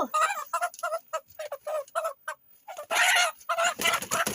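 Chickens cluck in rapid, loud bursts while being caught by hand, with agitated squawks rising into a louder flurry of cackling and flapping near the end.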